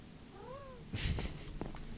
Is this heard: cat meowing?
yes